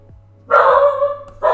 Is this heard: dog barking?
yes